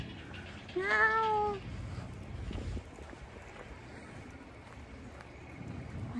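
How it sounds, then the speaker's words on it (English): A cat gives one clear, fairly near meow, followed by steady outdoor wind noise at a historic site on Wolmido island, Incheon. "I can hear cats."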